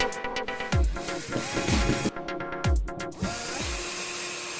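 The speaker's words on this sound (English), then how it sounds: "take the door off the hinges to make it easier to do the drilling for the lock" Close-up clicks, scrapes and short whirring bursts of a screwdriver or drill removing a door from its hinges, with a few thumps and hiss between them.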